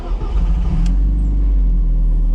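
A Karmann-Ghia fitted with a mid-mounted Audi turbo engine, heard from inside the car: a loud, steady low engine drone and exhaust rumble with a brief high hiss partway through.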